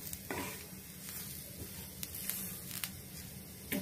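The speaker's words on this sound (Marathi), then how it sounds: "आपल्याला आता मिडियम फ्लेमवर" Coconut roasting in a pan on a medium flame for a Konkan-style egg curry, giving a steady close sizzle with light stirring scrapes.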